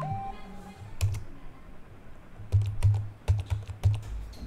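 Typing on a computer keyboard while entering a command in Windows 11, with a brief single key press followed by a rapid burst of close, crisp keystrokes.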